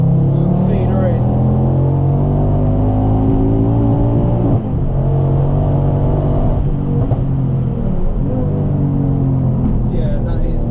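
A Ford Focus RS Mk2 accelerates hard in third gear from about 3,000 rpm, its loud, close engine note climbing steadily with a rumbling exhaust and a few pops, while a person speaks over the engine.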